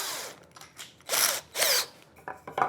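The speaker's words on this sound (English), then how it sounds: "So countersink the underside of the foot." A countersink bit grinds in short bursts into the underside of a wooden trestle foot, with two stronger whirring passes in the middle and quieter clicks and scrapes around them, close up with no talk.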